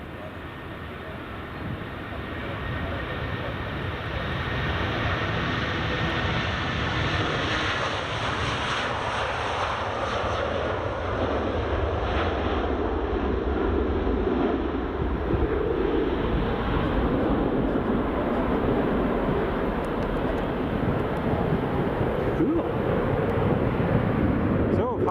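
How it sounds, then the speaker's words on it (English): A KLM Boeing 737-800 makes an intersection departure at Edinburgh Airport, its engines a broad, steady roar that holds for the whole stretch, with wind buffeting the microphone. "We're going to get a KLM taking the intersection departure from Charlie."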